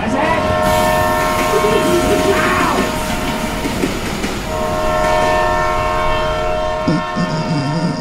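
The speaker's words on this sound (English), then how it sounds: "That was a train that just flew through here." A train rushing past close by, a loud continuous roar of rail cars with a sustained horn tone, voices faintly heard near the end.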